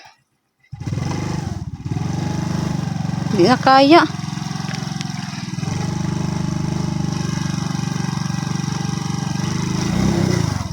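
A motorcycle engine idles steadily and fairly loudly throughout, with a brief rise partway, while people talk over it.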